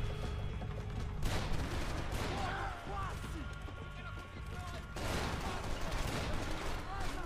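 Bursts of gunfire and smashing impacts in the video game Max Payne 3, dense and fairly loud, surging near the start and again toward the end, with voices talking over the shooting.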